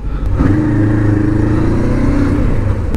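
A Voge 900DSX motorcycle out riding, its engine a loud, steady drone that holds one pitch for a few seconds under rushing wind, with no talking.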